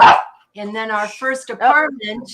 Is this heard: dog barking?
yes